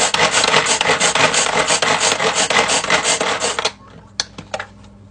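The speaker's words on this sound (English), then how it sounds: "I'm gonna take some of this spinach from this leftover salad and crush it up in here." Spinach leaves from a leftover salad crushed in a container, a loud close scratchy rasping that continues steadily for several seconds, then stops, leaving a few faint clicks and taps.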